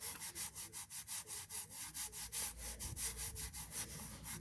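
Something rubbing hard against the back of a PS5 DualSense controller in fast, even back-and-forth strokes, about four or five per second, close up and steady with no talking.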